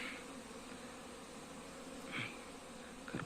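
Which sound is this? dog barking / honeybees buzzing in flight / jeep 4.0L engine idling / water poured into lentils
honeybees buzzing in flight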